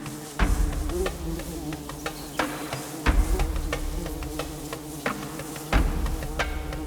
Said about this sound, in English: The female bees work tirelessly,